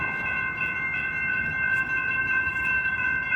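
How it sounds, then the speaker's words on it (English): A train passing in Fort Worth, Texas, heard as a steady, loud drone with sustained tonal horn-like ringing over rumbling noise, continuous throughout. "the train is coming"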